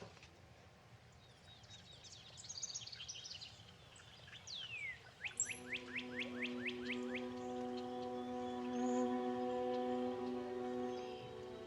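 Several wild birds sing outdoors on a morning in a setting with running spring water, starting with scattered chirps and building into a rapid series of repeated rising whistles, then a steady, dense chorus of overlapping calls.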